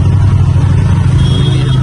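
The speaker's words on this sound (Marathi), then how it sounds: "मिनी कुपर वाटते रे." A Mini Cooper in heavy traffic gives a loud, close, steady rumble of engine and road noise across the short stretch.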